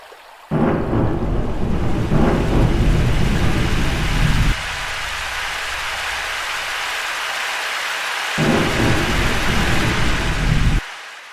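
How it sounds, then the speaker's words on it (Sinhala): Heavy rain pours down in a roaring wash during a thunderstorm in a village paddy field. It swells loud in two long bursts and falls to a steadier hiss between them. "වැස්ස වැඩි වුණා."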